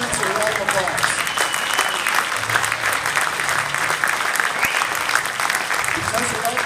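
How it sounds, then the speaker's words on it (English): Students at the Arturo Sandoval Institute applaud their parents in a steady, full round of clapping that holds throughout, with some voices mixed in beneath it. "Students, please give your parents a round of applause."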